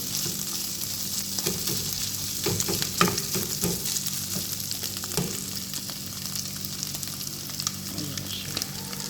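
Steady oily sizzling of chicken frying in a pan, with occasional pops and light scraping, continuous and close.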